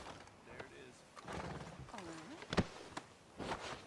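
A horse in Red Dead Redemption 2 whinnies and snorts amid clopping hooves, faint and intermittent, with voices speaking around it.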